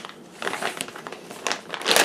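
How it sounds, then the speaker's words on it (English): A big plastic bag from a Cologuard colorectal cancer home screening kit crinkles and rustles close up in several bursts, growing louder and busier toward the end. "Big plastic bag."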